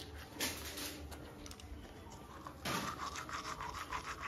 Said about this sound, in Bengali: আর আমি এখন করছি ব্রাশ।